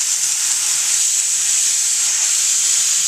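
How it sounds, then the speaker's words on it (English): A steady, loud hiss of steam escaping under pressure from a pressure cooker lid, continuous and unbroken for the whole stretch. "where the steam comes out, and you need to be careful, keep your hands and your face away"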